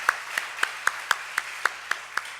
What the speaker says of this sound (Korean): 다시 한번 격려의 박수, 감사의 박수 하시겠습니다